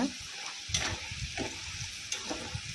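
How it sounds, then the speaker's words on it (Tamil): Elephant foot yam slices deep frying in hot oil, a faint continuous sizzle with soft crackles and occasional louder pops. "இது பார்த்திங்கன்னா நல்ல ஒரு கலகலன்னு ஒரு சவுண்டு வரும் அது வரைக்கும் நல்லா நம்ம ஃப்ரை பண்ணி"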